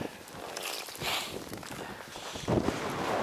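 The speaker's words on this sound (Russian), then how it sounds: "ветер" Gusty wind buffets the microphone with rumbling, uneven bursts, swelling and easing, with a stronger gust near the end, while ice fishing for burbot in the Russian Far North.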